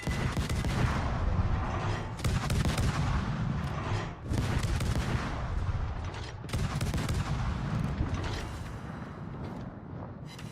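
Naval gunfire from warships in World of Warships, a dense stream of heavy cannon blasts and rumbling shell fire sustained throughout, loud and continuous with brief dips between volleys.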